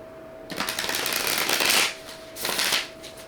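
A deck of cards riffled twice in quick succession, with crisp fluttering bursts close by against a faint steady hum.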